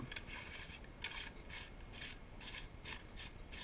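Metal nut being screwed back onto a Mossberg 500 shotgun, heard as a series of short, close scraping rasps repeating in a quick, fairly even rhythm, quiet and with no talking.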